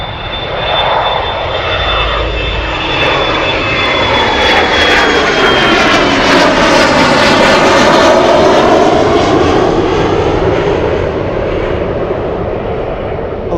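A cargo airplane lands at Anchorage airport, its jet engines a loud, sustained roar that swells and shifts in pitch as it passes close by, with people talking faintly underneath.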